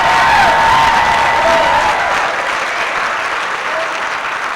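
Audience applause at a political conference, a dense, loud wash of clapping from a large crowd that holds steady and fades slightly toward the end.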